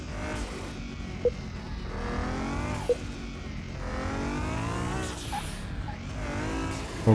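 A car drives a test track in Car Mechanic Simulator 2021, its engine droning steadily with rising and falling revs as gears shift, a few short clicks between changes and no speech.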